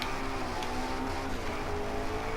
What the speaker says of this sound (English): Like this car is loud. It roars. It screams at you.